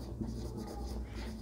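Chalk or marker writing examples on a classroom board, a short faint scratching stroke over a low steady room hum.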